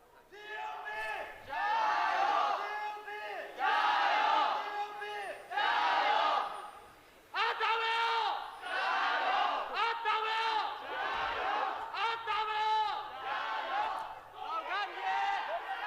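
Loud esports arena crowd at an LPL Spring Split match between Topsports Gaming and Rogue Warriors, rising in repeated surging waves of cheering and chanting, with a commentator's voice running over it.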